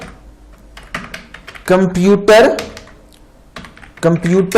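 Keys clatter on a computer keyboard as a folder name is typed, a short run of quick taps mixed in with someone talking over it in Hindi.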